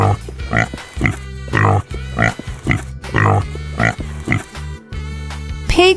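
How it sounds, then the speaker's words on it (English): Pig oinks and grunts in a farmyard-animal sound sequence, several short, loud nasal bursts in an uneven rhythm, heard up close and alone, without talk. "Pig."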